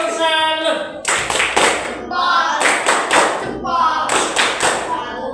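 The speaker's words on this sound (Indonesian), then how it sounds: "Tepuk tangan untuk kelompok 1." A classroom group applauds a presenting group, with several bursts of rhythmic clapping, including a patterned clap, mixed with voices and chanting.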